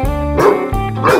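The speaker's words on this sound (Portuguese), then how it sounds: "O que é que está pegando que você está latindo tanto?" A cartoon dog barks in a children's animated farm show, two or three loud, close, repeated woofs in quick succession.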